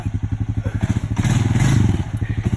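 A four-wheel drive vehicle stuck in bush revs hard, its engine pulsing in a rapid steady chug that swells into a louder roar midway before settling back to rhythmic throbbing, close and loud.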